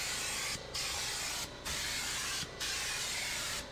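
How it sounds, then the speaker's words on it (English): Upol Raptor tintable bedliner sprayed into a pickup truck bed: three long, loud, steady hissing bursts of spray gun, each broken by a brief pause. "I started by spraying the bed walls, taking time to get into all the nooks and crannies."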